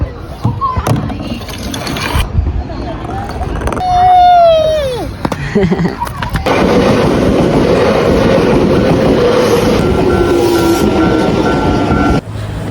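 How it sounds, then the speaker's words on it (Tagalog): A train pulling into a station in Japan, a steady rumbling, rattling roar building in the second half, preceded by scattered voices, a child's tones and station bustle. "Maybe this is the train now, Sarachan."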